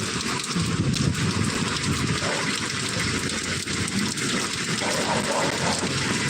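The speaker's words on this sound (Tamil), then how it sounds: "காற்று பாருங்க அடிக்குது தட்டுது எல்லாத்தையும் தூக்குதுங்க" Heavy rain and gusting wind lash a covered area where metal plates are set out, producing a loud, unbroken roar of water with faint rattles mixed in and no talk.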